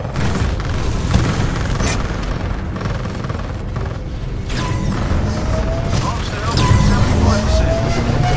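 Titan combat in a sci-fi shooter video game, with continuous loud booms and weapon fire rumbling throughout, bursts of explosions swelling near the end, under game voice announcements.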